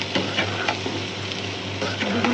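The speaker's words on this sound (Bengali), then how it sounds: "বেগুনের সাথে ডিম আর তেলও দিয়েছি, সুন্দর করে কষিয়ে নিই।" Eggplant sautés with egg in hot oil, giving a steady, close, dense sizzle with soft stirring scrapes throughout.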